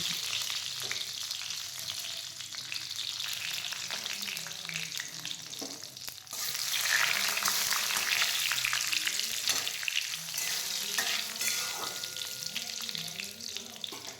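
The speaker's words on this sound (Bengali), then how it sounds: "তেলটা গরম হয়ে গেলে আমি ওই তেলের মধ্যে গোটা তেজপাতা, গোটা শুকনো লঙ্কা, গোটা জিরে কিছুক্ষণ ধরে নাড়াচাড়া করে নেব।" Whole bay leaf, dried red chilli and cumin seeds crackling and sizzling in hot oil while being stirred, a steady frying hiss that swells louder midway with scraping stirs and occasional light clinks.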